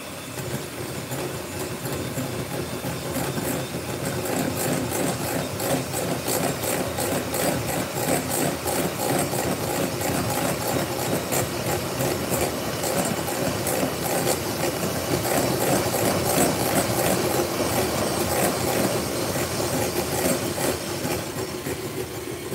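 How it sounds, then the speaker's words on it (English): An electric mixer whisks chocolate and coffee cake batter, a loud, constant whirring drone that runs without pause from start to finish, close to the microphone. "I'm just gonna whisk all of these together now"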